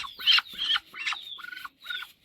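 Several short, nasal calls from a Muscovy duck, close and fairly clear, in quick bursts with brief pauses between them.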